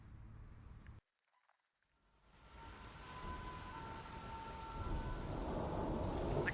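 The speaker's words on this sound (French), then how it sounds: "il pleut trop" Rain falls heavily outdoors as a steady broadband hiss that swells louder over time, cut off briefly near the start by a moment of near silence, with no talking.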